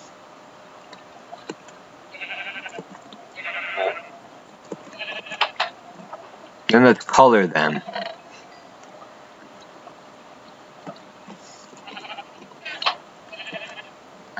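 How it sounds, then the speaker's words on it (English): Minecraft sheep give a sharp, close bleat about midway after being spawned, with fainter in-game clicks and sounds before and after and a player speaking briefly. "I'm gonna spawn these sheep."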